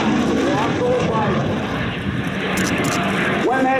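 A Yak-110 aerobatic aircraft performing at an airshow, its engine droning loudly and shifting in pitch as it maneuvers, under an announcer's commentary.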